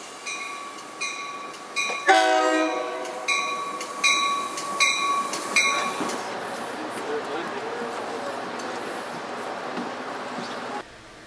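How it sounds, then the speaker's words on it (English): A Metro commuter train pulls into a Chicago station, a two-tone horn-like chime sounding briefly before a steady rumble and squeal of rail cars that runs to the end, with a repeating electronic beep over it near the start. "The next inbound Metro train to Chicago is now arriving in your station."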